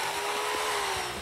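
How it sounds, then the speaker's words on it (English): An electric chainsaw with a 16-inch bar and a 3.5 horsepower motor runs at a steady high whine, close and continuous with no voices. "For even faster cutting, you might want to pull out an electric chainsaw."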